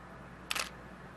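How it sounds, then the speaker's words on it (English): A single quick mechanical click of a camera shutter firing at 1/250 of a second, crisp and brief against a quiet room background. "I'm going to take a picture of my hand moving across the camera with a shutter speed of"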